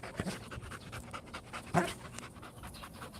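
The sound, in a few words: Belgian Malinois dog panting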